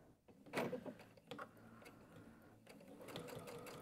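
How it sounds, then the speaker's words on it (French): A home sewing machine runs a topstitch along the edge of kimono-style pyjama fabric, a steady close whirring stitch with a louder burst near the start and quieter machine hum in between, no talking. "normalement, je vais coudre à la distance idéale pour une surpiqûre."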